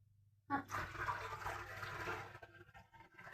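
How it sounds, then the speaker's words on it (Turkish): Water poured into a jar of oily pickles until it covers the top, a steady broadband rush and splash that starts abruptly and continues close by without talk. "Üstüne çıkana kadar suyu koydum"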